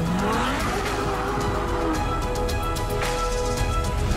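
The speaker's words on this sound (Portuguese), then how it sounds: "essa máquina é nada menos que o carro mais potente e mais rápido já produzido pela marca italiana até hoje" A Ferrari 812 Superfast with its V12 engine roars loudly and steadily throughout, with a rising engine sweep at the start and hints of tire noise, no talk over it.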